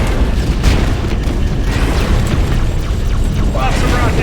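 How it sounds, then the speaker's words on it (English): Rocket explosions in the Halo video game, a dense run of loud, booming blasts packed close together into a continuous rumbling roar with no clear gaps between them. "Lots of rockets!"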